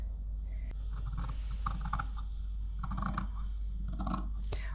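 Scissors snip through soft cotton cloth in a few short, close cutting strokes, quiet and crisp, with faint handling rustles between the cuts.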